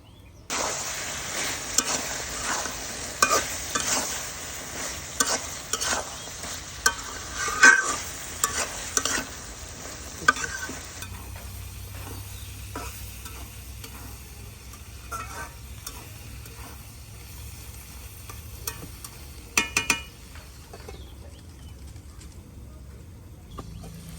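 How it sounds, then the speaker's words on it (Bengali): Vegetables with mixed spices, aubergine among them, stir-fried in a covered pan, with a steady sizzle and repeated scraping stirs through the first half, then a quieter simmer with a few sharp clinks later. "এখন ঢাকনা দিয়ে ডেকে দিয়া সুন্দর করে আমি কষাই নিই।"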